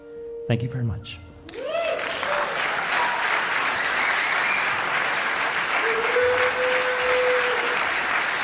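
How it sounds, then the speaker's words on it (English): Thunderous applause from a live storytelling audience swells after a brief opening sound, then holds as loud, dense clapping with scattered cheers and voices mixed in. "Thunderous applause."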